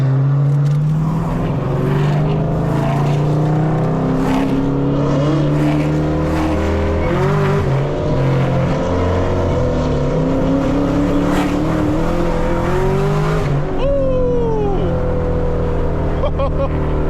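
Cammed Chevrolet Camaro ZL1 V8 cruising a back road, a loud, lumpy engine drone that rises and falls with throttle through the drive, with another car nearby and voices talking over it.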